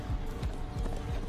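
Hooves pound in a quick, rhythmic clip-clop, a horse galloping close by in The Walking Dead, with a steady low thudding beat.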